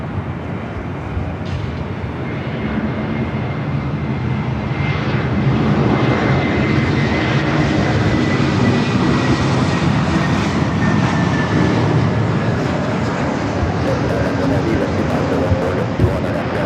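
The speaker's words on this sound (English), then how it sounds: "Delta A321 Neo up next for arrival 24 right" Delta Airbus A321neo jet landing on runway 24 right at LAX, a loud continuous engine roar swelling midway with a thin whining tone, steady rumble throughout and faint radio talk beneath.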